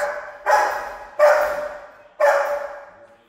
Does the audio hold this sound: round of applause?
no